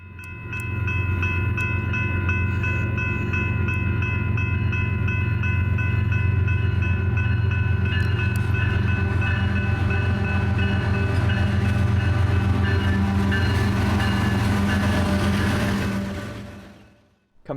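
A southbound freight train off the Lockhart subdivision rumbles past near San Marcos, Texas, a loud continuous low rolling roar with humming engine tones and scattered metallic squeals, building in and fading out at the end.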